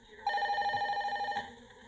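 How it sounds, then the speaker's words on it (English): A telephone bell rings in a movie scene, one sustained electronic ring lasting about a second before cutting off, fairly close and clear with a quiet room behind it. "Your phone is ringing."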